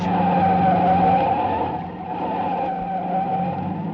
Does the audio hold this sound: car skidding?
yes